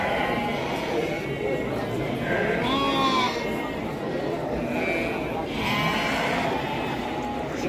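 Sheep bleat several times over busy crowd murmur and talk at a sheep market in Garut, Indonesia, where fighting sheep are sold. The bleats are moderately close and some overlap.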